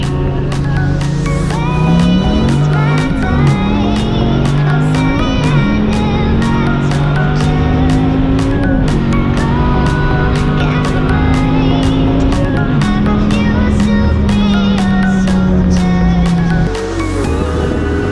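A loud V8 or V10 muscle car, either a Dodge Viper ACR or a Challenger Hellcat, roars past during a race, engine tone climbing and holding steady for many seconds before easing off near the end.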